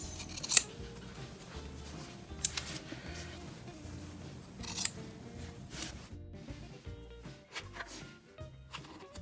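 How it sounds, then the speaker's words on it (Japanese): Scissors snip through a paper pattern for a fabric face mask, trimming a pointed edge, with several sharp clicks and crisp cuts close up amid faint handling noise and no talk. "少しカットします。"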